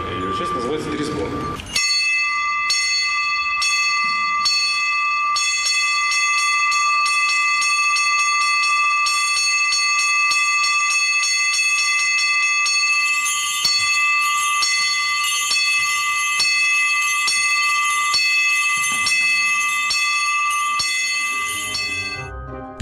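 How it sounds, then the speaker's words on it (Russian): Church bells ring a festive full peal, the trezvon, opening after a brief moment of talk: a sustained ringing tone overlaid with rapid, rhythmic strikes of smaller bells, loud and continuous throughout, growing busier toward the end. "праздничная ее часть, называется трезвон."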